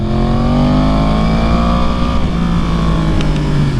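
A Yamaha R1 sport bike engine drones loudly and steadily while riding, its pitch sliding slowly as the revs rise and fall, close-up and constant with wind roar underneath.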